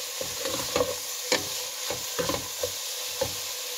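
Vegetables for a Spanish omelette cook in a pan with a steady broad sizzle, broken by several sharp spatula scrapes and stirs at irregular intervals, close and alone with no voices.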